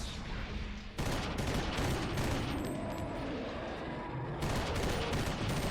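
Dense, continuous gunfire from the video game Eternal Darkness: Sanity's Requiem, a sustained barrage of rapid shots with a brief dip near the start, loud and without talk.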